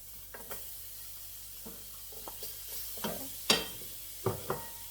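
Red and green peppers dropped into a hot skillet, with soft sizzling and several sharp stirring scrapes and clinks spaced through the clip, fairly quiet and close.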